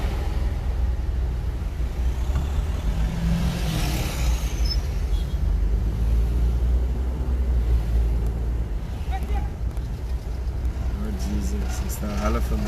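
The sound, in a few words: trucks driving past on road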